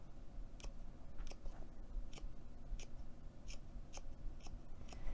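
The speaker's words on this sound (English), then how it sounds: "And then just make little snips the rest of the way." Scissors make small snipping cuts into fabric seam allowance while sewing a storage bin, roughly eight or nine crisp, evenly spaced close-up snips over a soft, quiet background.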